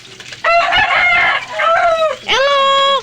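A talking black bird gives loud, close calls in three or four drawn-out, strained bursts with gaps between, sounding much like crowing.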